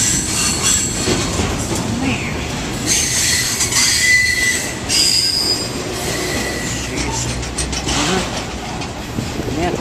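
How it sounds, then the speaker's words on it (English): A freight train rolls past close by, its wheels squealing loudly and continuously against the rails with clattering rail noise underneath for the whole stretch. "I'm going to film this whole train."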